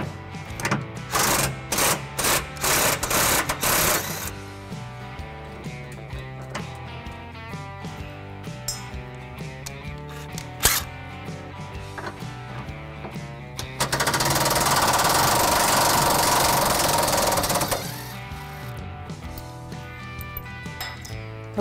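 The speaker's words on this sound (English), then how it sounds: "I'll go ahead and remove the bolt on the most rear part of the frame." A frame bolt removed from a 2019 Chevy Silverado 1500 during a trailer hitch install, rapid loud bursts of an impact wrench hammering in clusters, followed by a longer sustained rattling run, with metallic clinks between.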